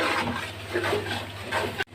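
Water from boiled rice, cooked about 90% for chicken biryani, pours and splashes through a strainer, a steady broadband rushing gush that holds for nearly two seconds before cutting off abruptly near the end.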